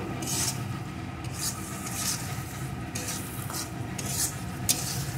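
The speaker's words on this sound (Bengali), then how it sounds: "মিডিয়াম টু লো আছে এই মশলাটা সুন্দর করে আমি কষিয়ে নেব।" Spiced masala for chicken curry being stir-fried over medium-low heat, with steady soft scraping and sizzling from a utensil working a pan close by.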